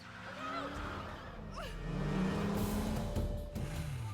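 A car accelerates in a film chase scene, its engine rising in pitch and swelling louder, with brief tire squeal, while voices talk over it.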